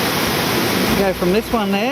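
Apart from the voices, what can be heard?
waterfalls in a gorge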